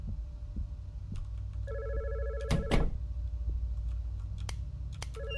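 A telephone rings in the horror video game God's Basement, with short electronic ring bursts repeating over a low throbbing, heartbeat-like ambient drone.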